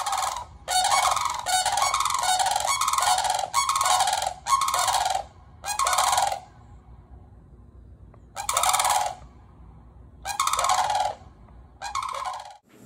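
Sandhill cranes calling loudly nearby, harsh rattling bugles in a burst of repeated calls, then a pause before a few more calls resume, with no talking.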